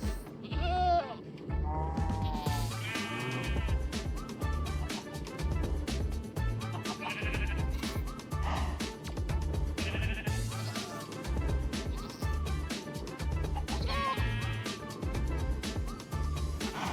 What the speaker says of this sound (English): He feeds wheat to the two goats, and they immediately breed a baby goat.